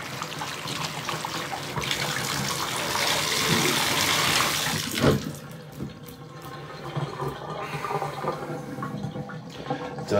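Soaked laundry being rinsed under cold running water from a tap, a steady loud gush and splash for about five seconds, then quieter intermittent trickling and dripping.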